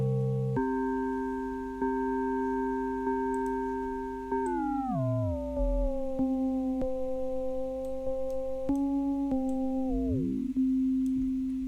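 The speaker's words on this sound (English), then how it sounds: "phase modulation, sequence synthesis gives you these kind of chiming, metallic sounding, bell sounding tones" Phase modulation synth tone made in Protoplug, a sustained metallic, bell-like chime that glides downward in pitch in steps, then steadies into a clear held note, loud and alone.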